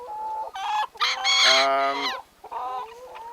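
A young male chicken with little spur development clucks and makes a drawn-out crowing call at close range, loud and clear, during a 4-H poultry judging session.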